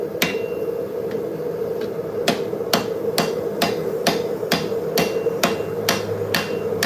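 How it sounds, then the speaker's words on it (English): A forging hammer rings sharply on hot metal in a steady rhythm, over a dozen strikes about half a second apart, close and loud with no talking. "Oh, that was a bad hammer swing."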